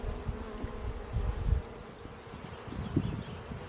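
Honey bees buzz as a dense, steady swarm drone close by during a hive inspection, rising and falling slightly in intensity.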